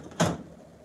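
A drawer in a stained glass studio slides and bumps once in a short close thud, followed by a quiet room.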